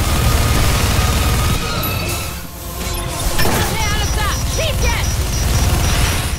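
Gunfire in the shooter video game Bulletstorm, dense bursts of shots and crashing impacts blasting almost continuously with a short lull midway, while a player talks over the action.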